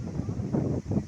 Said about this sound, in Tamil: காற்று வேறு லெவலில் இருக்குது ஃப்ரெண்ட்ஸ்.